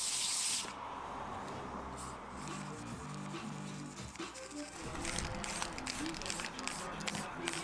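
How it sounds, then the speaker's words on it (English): Spray varnish hisses from an aerosol can in bursts with pauses between, close by, coating a shellac-finished wooden ring box, over a low hum of background noise. "I applied a couple of coats of spray varnish just to help protect the shellac finish"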